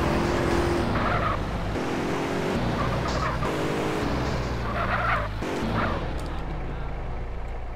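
Engine drone and tyre noise from a Mustang driven through the streets of GTA San Andreas, continuous and loud, with squealing skids and a few harsh bumps along the way.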